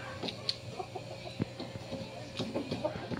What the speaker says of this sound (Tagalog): Mga manok nating alaga.